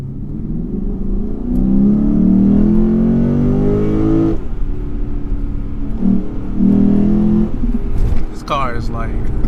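A car engine revs hard and climbs in pitch as the vehicle accelerates, then eases and surges again, loud and close, with a voice briefly over it.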